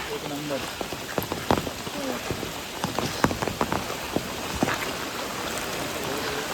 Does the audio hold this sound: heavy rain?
yes